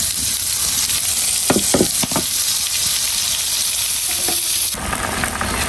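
Chopped vegetables hit hot oil with onion and cumin already in the pan, raising a steady loud sizzle with a few scraping stirs, then a slightly softer fry.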